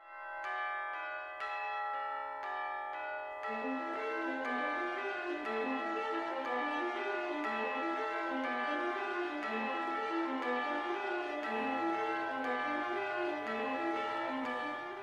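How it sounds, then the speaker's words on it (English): Tolling bells open the opera track, ringing in a steady clock-like pattern before a looping, building sung and instrumental texture rises beneath them, loud and continuous throughout. "it starts off with bells, which very much remind me of a clock."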